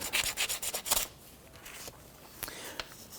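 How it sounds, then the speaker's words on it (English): A rusty wheel hub from a 2017-2020 Hyundai Elantra is rubbed clean with 120 grit sandpaper, a quick series of close, rasping back-and-forth strokes followed by softer scuffing and a couple of light knocks. "just using a 120 grit sandpaper, and I'm not taking any metal away. I'm just cleaning up some of the rust."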